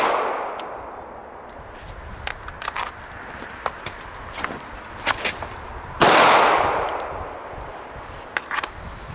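Handgun shots fired during concealed carry drills outdoors, two loud sharp reports several seconds apart, each ringing out with a long decaying echo, with fainter metallic clangs and small pops scattered between them.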